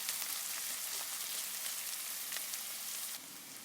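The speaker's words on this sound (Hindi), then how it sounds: "यहाँ पर मैंने ओनियन को थोड़ा सा लाइटली बुनाई कर लिया है" Onions frying lightly in oil in a pan for egg tikki, a steady close sizzle with fine crackling spits, even and moderately quiet, dropping slightly softer near the end, no voices.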